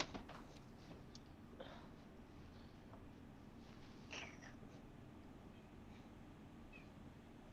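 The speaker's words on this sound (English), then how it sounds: "you're so cool ignoring a kitten who's meowing" A kitten meows a few faint times, with one brighter cry near the middle, over a steady low room hum and background noise.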